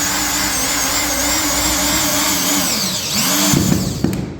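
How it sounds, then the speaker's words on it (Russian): A power tool drives a screw into a wooden floor joist while a squeaky floor is being fixed. A close, loud, continuous whine runs for about four seconds, and its pitch dips and strains near the end as the screw bites. "вот такой вот звук должен быть потом, когда саморез вы вкручиваете, слушайте."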